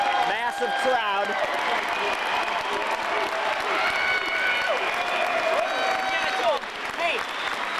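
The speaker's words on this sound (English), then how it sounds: "And he's getting a standing ovation from this massive crowd." A massive stadium crowd at a baseball game gives a standing ovation, with sustained loud applause and cheering throughout as a commentator talks over it.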